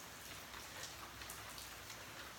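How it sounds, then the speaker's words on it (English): Steady rain falling outdoors at a home on a rare rainy October day, a constant dense hiss of drops with no voices, quiet and even throughout. "Oh my gosh, it's really raining."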